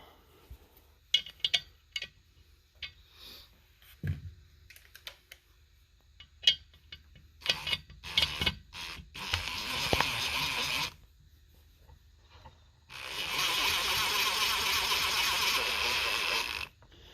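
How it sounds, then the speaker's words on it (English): A bolt is driven down on a valve spring compressor tool fitted to a Coyote 5.0 cylinder head, with scattered metallic clinks followed by two sustained bursts of power-driver whirring, close and fairly loud. "Now we're going to start driving down the bolt."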